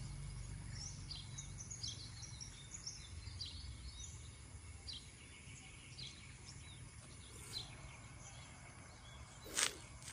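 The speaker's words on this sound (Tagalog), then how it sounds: "huni ng mga ibon" Faint, distant bird chirps flicker over a steady outdoor hiss, with one brighter call standing out near the end.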